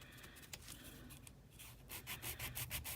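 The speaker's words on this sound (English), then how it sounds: "So I use a nice 180 grit file, something like that." A 180 grit file rubs back and forth over a glitter dip powder nail, soft close scratchy strokes in a quick steady rhythm, faint and without talk.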